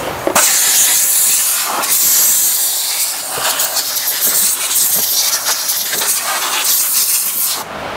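Compressed air blasting debris out of the windshield wiper area of a Honda Accord, a loud, close, continuous hiss in several long bursts with brief dips between them.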